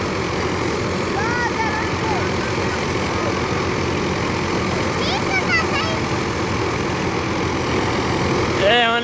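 A tractor engine idles close by with a steady, throbbing mechanical drone. It runs continuously without pause, and faint voices and background sounds sit beneath it.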